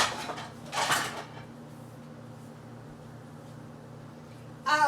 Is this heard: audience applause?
no